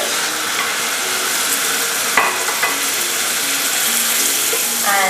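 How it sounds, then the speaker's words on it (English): Shrimp frying in melted butter in a pan, a steady dense sizzle that carries on throughout, with a few faint clinks and utensil taps. "So as my butter melts, I'm going to add my shrimp."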